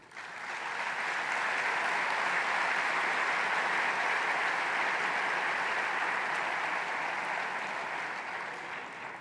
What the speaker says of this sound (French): N'hésitez pas à les applaudir.